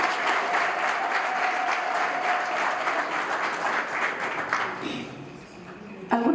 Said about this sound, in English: Please round of applause.